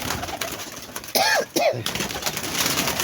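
A golden pigeon coos twice in quick succession, close and clear over a steady background hiss, with faint speech nearby.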